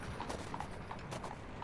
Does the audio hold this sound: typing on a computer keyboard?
no